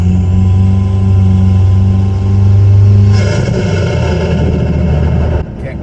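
A car engine revving up, its tone climbing and then rising as the vehicle pulls away, loud and close, before easing off near the end.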